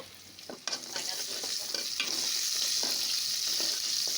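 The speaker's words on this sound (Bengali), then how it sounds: "পেঁয়াজ রসুন একটু শুকনো মরিচ দিয়েছি তো বাগার দিয়ে দিব" A tempering of onion, garlic and dried chili sizzling in hot oil for lentils, with a loud, steady frying hiss and intermittent stirring scrapes close by.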